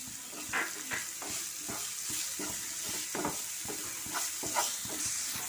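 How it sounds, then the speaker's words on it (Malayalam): Chopped onions sizzle in hot oil in a pan for gobi manchurian and are stirred with a spoon, a continuous close frying hiss broken by regular soft scraping strokes. "ഇനി നമുക്കിതിലേക്ക് അരിഞ്ഞ് വെച്ചിട്ടുള്ള സവാള ഇട്ട് കൊടുക്കാം. എന്നിട്ട് ഇളക്കി കൊടുക്കാം."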